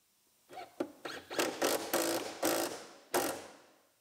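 A ratchet wrench tightens down a hood latch bolt on a convertible Silverado rollover, with about eight close, loud ratcheting strokes in quick uneven succession.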